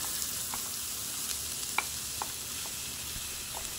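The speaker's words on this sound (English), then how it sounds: "we take a break from the headbanging music so you can hear the sizzle" Food sizzles and fries in an Instant Pot pressure cooker on sauté mode, a steady hissing crackle broken by a few sharp pops and stirring scrapes, with no voices.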